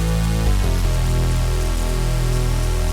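A loud, buzzy synth bass from Arturia Pigments 4 drones with a harsh, wave-folded, metallic edge, changing pitch a couple of times before cutting off abruptly.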